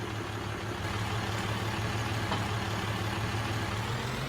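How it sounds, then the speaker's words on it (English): Tractor engine in Farming Simulator 22 idling with a steady low drone, a constant mid-loud hum that holds evenly throughout with no talk over it. "Let's go ahead and get into this tractor here."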